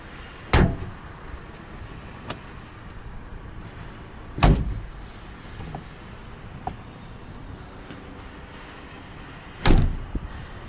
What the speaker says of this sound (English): everything just closes with a rather dull thud.